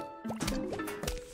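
A zombie in the Plants vs. Zombies game drops into a pool and sinks: a few soft watery plops and gurgles in a short burst, close and clear, with bright game music chiming underneath.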